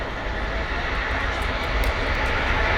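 Boeing 737-800 landing at Manchester Airport with reverse thrust: a loud, continuous roaring engine rumble that holds steady and close throughout, with no speech.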